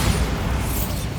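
Bombarda explosion spell cast in Hogwarts Legacy, a dense low rumbling boom that fills the whole short moment with a heavy, sustained blast.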